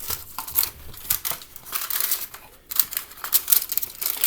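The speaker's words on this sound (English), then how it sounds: "Get you some aluminum foil." Aluminum foil handled and crinkled, giving a series of close, irregular crackling rustles with short pauses between bursts.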